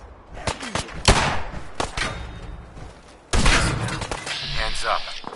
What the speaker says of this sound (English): Let's throw grenades everywhere.